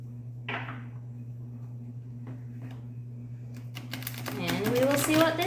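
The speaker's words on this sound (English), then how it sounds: "So let's shuffle." A deck of tarot cards is shuffled, a soft crisp rustle and riffle that builds toward the end over a steady low electrical hum, with a few faint clicks earlier.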